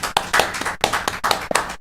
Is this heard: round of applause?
yes